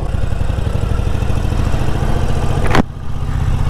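A Harley-Davidson Forty-Eight motorcycle fitted with a turbo exhaust whistle runs close by with a steady, throbbing engine drone that swells into a brief burst near the end before dropping off.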